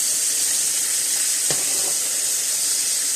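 Steak sizzling in butter in a pan, a loud steady hiss with a short spitting burst midway, close and alone.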